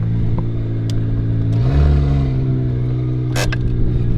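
A Jeep SRT8 engine runs loud and steady at close range, rising into a throaty rev partway through and then holding a deep, rumbling idle, with no talking.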